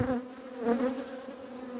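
Honeybees, drones among them, buzz close-up inside an opened hive in Adana in February, a steady humming drone with slight swells in pitch and no talking.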